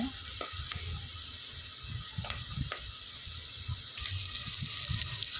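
Mixed vegetables for a vegetable biryani fry in a pan with a constant low sizzle, punctuated by repeated scraping and clanking stirs of a ladle, the frying hiss growing brighter near the end.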